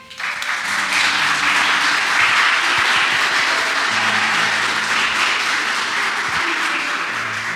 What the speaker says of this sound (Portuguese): Vocês podem aplaudir mais uma vez?